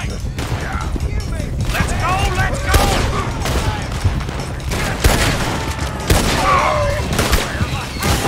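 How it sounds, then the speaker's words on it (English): Heavy gunfire from a Red Dead Redemption 2 shootout cracks in repeated volleys, loud and near, mixed with thuds and crashes while someone talks over the chaos. "I think I'm gonna try to shoot him."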